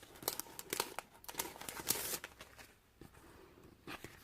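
Plastic sticker packets for a tea-party craft kit being torn and popped open, with a run of close, crisp crinkling and tearing bursts that fade to softer rustles near the end.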